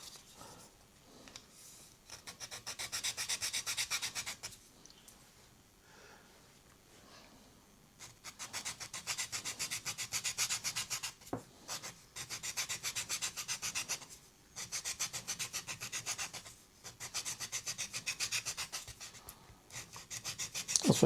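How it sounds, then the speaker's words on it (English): A sanding stick smooths a round wooden part just over 6 mm across, a close, steady rubbing rasp in repeated strokes of a few seconds each, with short quiet pauses between bursts. "I'm just going to tidy it up with a sanding stick"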